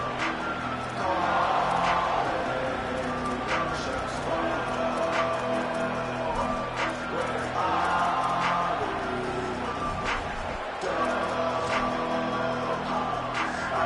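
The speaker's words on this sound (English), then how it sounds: "This crowd ready to make its presence known" A football stadium crowd roars in a sustained, distant wash of cheering under continuous play-by-play commentary from a broadcaster.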